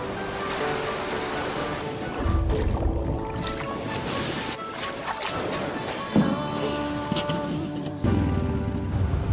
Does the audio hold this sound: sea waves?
yes